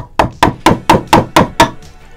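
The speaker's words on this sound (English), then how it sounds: "this is without doubt the scariest part of any chisel carving that you ever do, is that first strike" Seven evenly spaced sharp mallet strikes crack against a chisel carving guitar wood, each a loud close knock, in a steady rhythm before going quiet.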